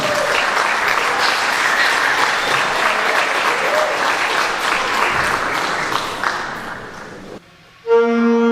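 An audience applauds a school jazz band at a concert, loud sustained clapping that fades out near the end, followed by a brief musical tone.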